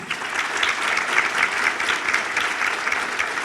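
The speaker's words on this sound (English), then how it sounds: "So a round of applause for them as well." Steady, dense applause from an audience at a women in business breakfast, sustained evenly throughout with no voices standing out.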